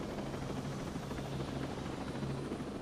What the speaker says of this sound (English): Well, I did fly a helicopter to your crib, homie.